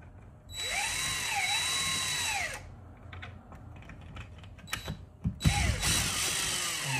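A power drill unscrewing the mounting screws of a Google Nest Gen4 smart thermostat, two loud whining bursts with pitch rising and falling, separated by clicks and handling taps, close up.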